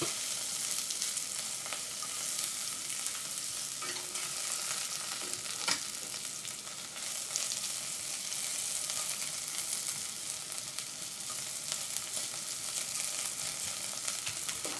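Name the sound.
vegetables frying in a pan for khao soi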